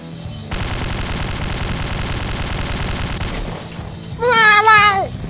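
Loud rapid automatic gunfire in the video game Slendytubbies 3, a sustained machine-gun burst of about three seconds, followed by a short high warbling electronic sound.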